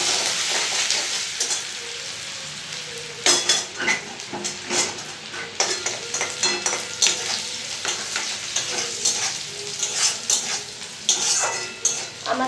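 Chopped garlic and ginger fry in oil for a chilli chicken dish, a continuous sizzle broken by repeated scraping and clattering strokes of a spatula against the pan.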